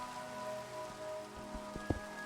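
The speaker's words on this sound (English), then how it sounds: "is it always raining in this world?" Constant rain falling in a Minecraft world, a steady dense hiss of drops on surfaces with a faint background tone and a few soft thuds, no voices.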